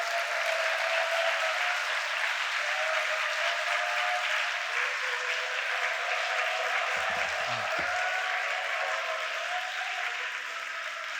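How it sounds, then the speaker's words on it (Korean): A church congregation at a Friday late-night prayer meeting gives a big round of applause to welcome Pastor Kim Bo-seong, a continuous, even wash of many hands clapping that holds steady throughout, fairly distant and without speech. "큰 박수로 모시겠습니다"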